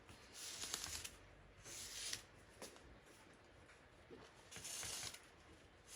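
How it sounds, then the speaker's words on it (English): Scissors cutting through t-shirt fabric for a sublimation shirt project, a few drawn-out rasping snips in separate bursts with quiet gaps between, close and soft. "I'll use it to mark it, and I'll use my scissors to cut it properly."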